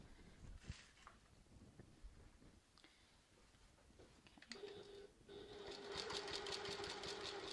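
A sewing machine stitches a tote bag seam, starting after quiet handling noises and then running steadily at close range to the end, with no talk.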